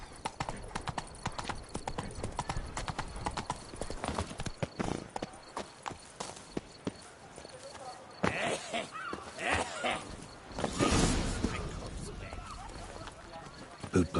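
Roach the horse gallops in The Witcher 3 with quick rhythmic hoofbeats, then slows to a looser clatter while a voice talks over the game sounds.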